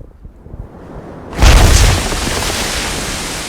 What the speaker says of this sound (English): Back in the desert, Rafa starts throwing grenades.